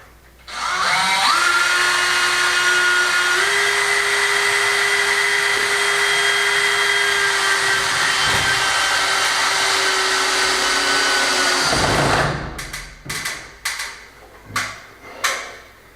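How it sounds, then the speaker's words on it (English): A power drill drives screws into timber joints in a steady, long continuous whir lasting several seconds, followed by a few short bursts and clicks as the tool stops and is repositioned. "I just need now to fire some screws through all the joints and lock it all up."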